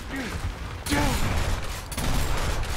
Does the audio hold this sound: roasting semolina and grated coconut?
no